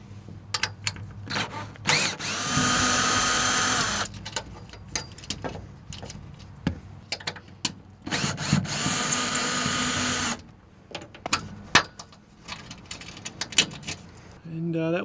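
A power drill backs Phillips head screws out of a long-installed solar panel rack, with several sustained whirring bursts lasting a few seconds each and clicks and clanks between them, close and loud.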